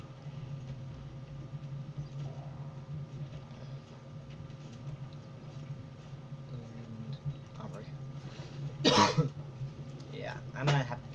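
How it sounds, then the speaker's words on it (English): A man coughs and clears his throat, two harsh bursts near the end, over a steady low hum and his ongoing game commentary. "been coughing a lot."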